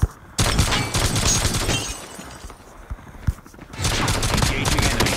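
Rapid gunfire from a Call of Duty Mobile battle on iPhone, loud bursts of shots with sharp cracks and crashes that pause briefly midway before another volley resumes.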